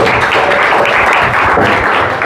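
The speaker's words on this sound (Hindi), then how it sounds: "आप लोग अपने लिए ताली बजाओ" Dense, sustained applause from a seminar audience of students fills the space loudly and close, steady throughout with no voices standing out.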